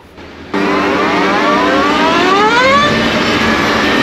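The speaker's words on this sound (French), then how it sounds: "le frein moteur en plus. Le frein moteur, les gars." A high electric whine from an Energica electric motorcycle under engine braking rises and falls in pitch, loud and steady, after a brief quieter start; no voices.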